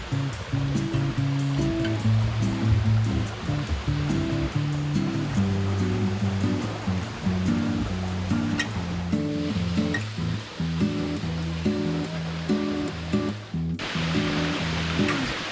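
A waterfall on a mountain hiking trail in Dobongsan pours with a dense, continuous rushing roar. The water is close and steady, with no talk, although the dense texture cannot confirm falling water over surf.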